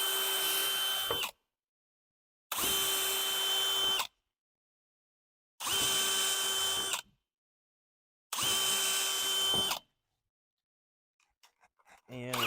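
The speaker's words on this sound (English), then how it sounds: "I'm going to pre-drill a couple holes here." Power drill pre-drilling holes while working on a Ski-Doo Citation snowmobile, four loud bursts of about 1.5 seconds each separated by pauses, followed by faint clicks and handling noise.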